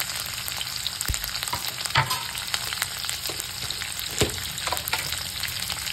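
Curry leaves and chopped green chillies frying in hot oil, a continuous close crackling sizzle with scattered sharp pops and occasional spoon knocks against the pan.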